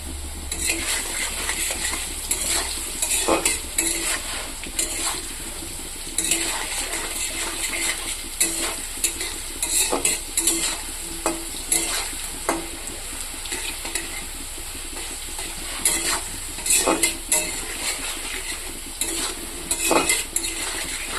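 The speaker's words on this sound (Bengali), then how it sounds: "আলুটা ভাজা হয়ে গেছে" Potatoes fry in a pan with salt, cumin and turmeric, a constant sizzle punctuated by frequent spatula scrapes and metallic clicks as they are stirred, close and busy.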